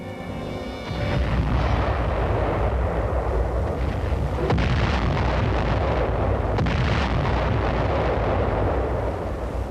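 Archival war footage of floating artillery firing on a ruined harbour city, a dense continuous roar of heavy gunfire and explosions with sharp booms cutting through, loud and sustained throughout.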